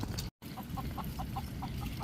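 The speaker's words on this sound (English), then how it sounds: "We have seen several roosters and chickens going around Marathon." Chickens and roosters roaming around Marathon, Florida, give soft, repeated clucks at a steady rhythm over a constant outdoor rumble.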